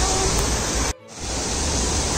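Steady broadband rush of flowing water at Sahastradhara waterfall near Haridwar, loud and close, filling the whole clip apart from a brief dropout near the one-second mark.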